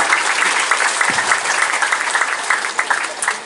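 Students and audience at a school session with a Semarang city council chairman clap on cue, a lively burst of many hands with distinct individual claps standing out, fairly close and steady throughout.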